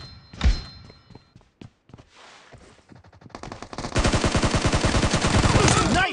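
Gunfire in the PUBG Mobile video game: a few scattered shots early on, then a dense, loud burst of rapid automatic fire that runs to the end, with brief speech-like sounds mixed in.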